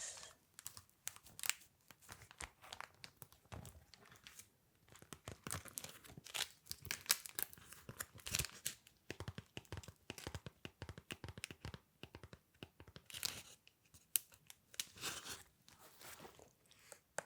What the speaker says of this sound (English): The sound of the plastic sleeves.